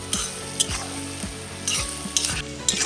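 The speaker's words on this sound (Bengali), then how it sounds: "এখন পেঁয়াজটা ভালো করে ভাজি নিতে হবে ভালো করে নাড়াই নাড়াইয়ে ভাজতে হবে" Onions frying in a pan while being stirred: a constant close sizzle is broken by repeated scraping strokes of a spoon across the pan, with no talking.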